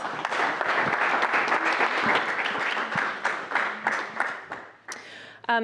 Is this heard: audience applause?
yes